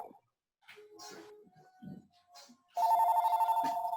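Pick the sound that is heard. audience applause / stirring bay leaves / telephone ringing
telephone ringing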